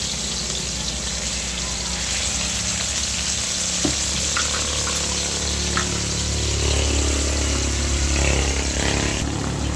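Continuous loud sizzling and crackling of salmon frying in hot oil, with a low hum underneath and occasional small pops.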